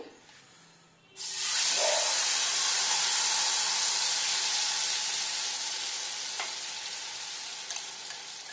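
After a quiet moment, prawns hit hot mustard oil in a wok with a sudden loud sizzle that continues strongly and slowly softens, with a faint clink or two.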